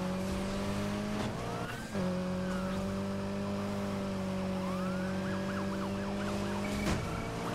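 Police car sirens from the video game Need for Speed Heat, wailing and sweeping steadily over a constant car engine drone throughout, with a couple of brief knocks, no talk.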